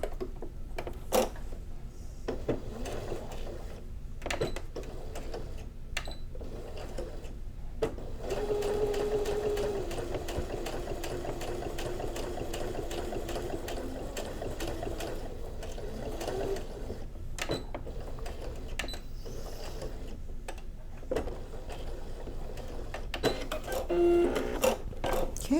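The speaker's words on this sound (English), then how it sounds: "I'm going to start stitching right here at the curve." Sewing machine stitching fabric for a small cord organizer project, a steady close mechanical whir with rapid needle ticking that runs almost continuously, briefly pausing and restarting, with no talking.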